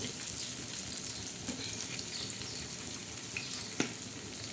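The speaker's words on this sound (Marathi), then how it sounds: "म्हणून आपण तव्यावर ह्या वड्या भाजणार आहोत" Quiet, steady frying hiss from coriander vadis on an oiled hot griddle, close by, with a few faint clicks of a utensil.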